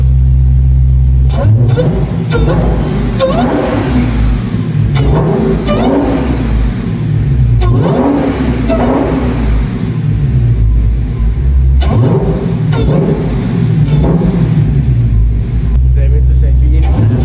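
A supercharged Dodge Challenger SRT engine revs repeatedly in loud, rising and falling bursts, a deep rumbling roar swelling and dropping several times up close.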